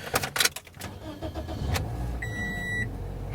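A used car fires up at an auction, a brief cranking burst quickly settling into a steady close idle with a short electronic chime over it.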